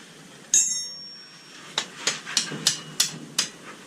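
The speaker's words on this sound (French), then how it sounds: "si je tape ce boulon là" Hammer tapping a bolt on an Apollo 150 dirt bike, one sharp metallic ring followed after a pause by six quick, bright taps in a loose rhythm, close and clear over a quiet workshop.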